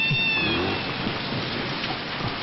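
Steady rain falls in a dense, even hiss that stays constant through the whole stretch, with no talking.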